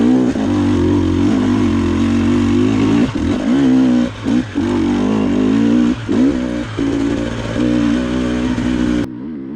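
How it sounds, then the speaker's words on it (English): Dirt bike engine revving in second gear on a singletrack hill climb, loud and close, with a buzzing drone broken by repeated dips and surges as the throttle and clutch are worked, then cutting out near the end. "I'm in second gear, trying to get the bike to rev."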